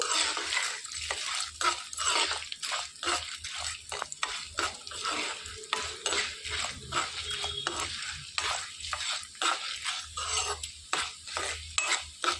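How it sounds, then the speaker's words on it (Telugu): Urad dal (black gram) is stirred and roasted in a pan, with a steady soft sizzle and repeated scraping strokes of a spoon against the metal, close and fairly quiet. "ఒక మూడు టేబుల్ స్పూన్ల మినప్పప్పు వేసుకోవాలండి మంచిగా ఎర్రగా అయ్యే వరకు వేయించేసుకోవాలి"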